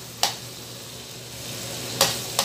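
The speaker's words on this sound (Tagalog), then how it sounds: "Hintayin muna natin mag-brown muna yung ating bawang bago natin ilalagay yung ating sibuyas." Garlic browning in a frying pan gives a steady, soft sizzle throughout, broken by a few sharp scraping clicks of stirring utensils against the pan.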